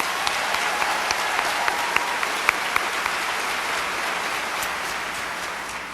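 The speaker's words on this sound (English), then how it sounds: "Let's give him another round of applause." An audience at a school district convocation gives a loud, dense round of applause for a vocalist, the clapping sustained and even with a few sharper individual claps standing out near the start.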